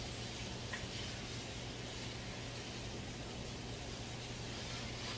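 Ground turkey browning in a pan, giving a steady, faint sizzle with an even hiss and a low hum throughout, without any talking.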